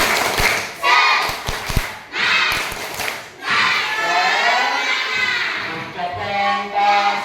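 A classroom of students performs a rhythmic spirit clap, sharp bursts of clapping and shouted chanting voices alternating in a loud, energetic pattern, with children's voices ringing out between the claps.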